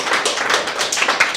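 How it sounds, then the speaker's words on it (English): An audience at a WordPress meetup in Bangalore claps in a loud, dense round of applause, many hands slapping together continuously and close by for the whole stretch. "give a really good, loud clapping, like a round of applause"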